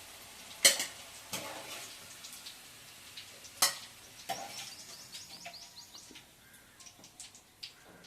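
Bitter gourd pieces stirred in frying oil, a faint sizzle broken by a few sharp spatula scrapes and clinks, with soft bird calls in the background and no talking.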